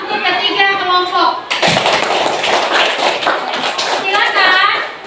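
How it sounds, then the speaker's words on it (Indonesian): A classroom group breaks into applause for three student groups, a burst of dense, overlapping clapping that starts suddenly and carries on for several seconds, with children's voices heard before and after it. "Kita berikan tepuk tangan untuk ketiga kelompok."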